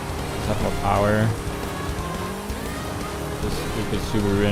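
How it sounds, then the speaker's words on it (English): A Subaru's engine revs and races in the Forza Horizon 5 racing game, its tones rising and falling throughout alongside tire and road noise, with a person talking over it. "This stupid Subaru engine"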